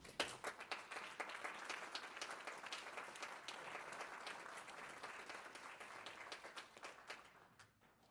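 A conference audience applauds warmly to welcome Father Thomas Michel, with steady, full clapping that holds for several seconds and then thins out at the end.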